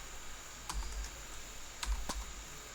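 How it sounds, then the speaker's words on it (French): Keys tapped on a computer keyboard while entering a form label in a code editor, a few sparse clicks in two small bursts against a steady faint background hum. "Et là, je tape mon label."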